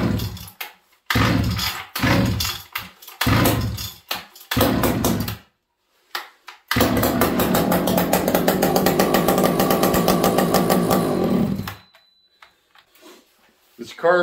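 A Husqvarna 480CD chainsaw engine runs on choke, a steady loud buzzing drone held for about five seconds after several short sputtering bursts and pulls, with brief talk nearby.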